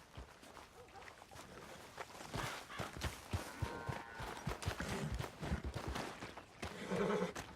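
A horse in Red Dead Redemption 2 whinnies and snorts among irregular hoof clops and footsteps, close and moderately loud, with a brief bright neigh near the end.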